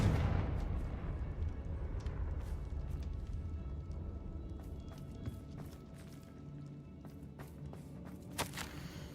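A Confringo blasting spell goes off in Hogwarts Legacy: a loud fiery burst at the start with a rumbling low tail, followed by scattered crackles and small impacts over a steady ambient bed.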